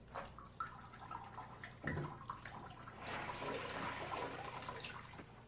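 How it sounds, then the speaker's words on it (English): A mop sloshed in a bucket of dirty rinse water and wrung out, with splashing, trickling and draining water close by, fairly quiet, ending in a steady run of dripping liquid. "When the mop is dry, slosh the mop in the dirty rinse. Wring it out thoroughly."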